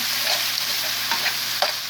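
Duck meat and peppers sizzle steadily in a pan, with a dense constant frying hiss and a few soft stirring scrapes near the end, close and moderately loud, no talking.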